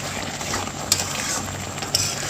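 Grated mango is stirred with black salt powder, roasted cumin powder and chaat masala, giving a soft continuous scraping and rustling with two brief clinks of a utensil and no talking.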